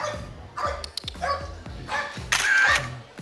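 A dog barks several times in quick irregular bursts in an apartment building stairwell, fairly close, with some higher yelping notes.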